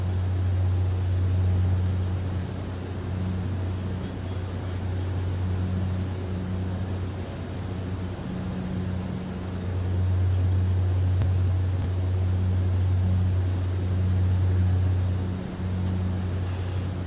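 A Britten-Norman Islander's twin piston engines drone steadily in Microsoft Flight Simulator, a loud, low continuous hum with a wavering beat that swells and fades slightly over time, with no voices.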